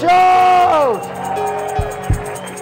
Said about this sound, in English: Give the Lord a shout where you are.